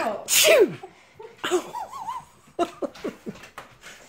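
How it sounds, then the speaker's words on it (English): A person gives one sharp, loud sneeze close by, followed by chuckling and a few short bursts of laughter, while a cat and a German Shepherd play indoors. "Sorry, I sneezed."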